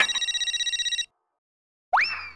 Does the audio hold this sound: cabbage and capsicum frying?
no